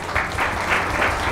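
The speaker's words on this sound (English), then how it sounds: "Let's have a round of applause for RentHoop." Audience applauding at the close of a UX review episode of the startup RentHoop, a steady, fairly loud patter of many hands filling the whole short stretch with no talking.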